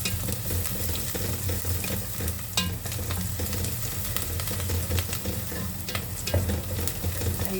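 Ingredients for a macaroni sauce sautéing in a pan, a loud continuous sizzle with scraping stirring strokes and occasional clanks of a utensil, close up with no voices.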